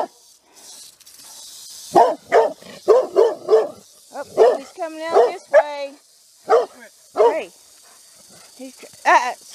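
A small dog yips and barks in short excited bursts near a rattlesnake in a food forest, with people calling out over the barking.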